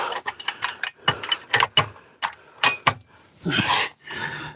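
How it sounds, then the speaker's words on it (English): A ratchet wrench turns a socket while an engine and transmission are pulled from a 1968 Thunderbird, giving close, sharp bursts of rapid clicks in uneven strokes, followed by a short scrape. "I'll get a wrench that fits the other end of that socket"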